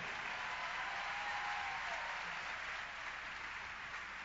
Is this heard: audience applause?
yes